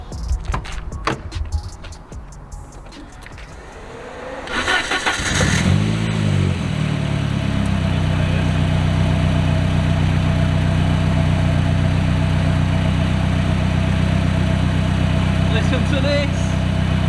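A 250bhp Vauxhall Corsa B fitted with a B204 engine starts up after some handling noise, blips its revs, then settles into a loud, steady, slightly lumpy idle heard up close, with talking over it.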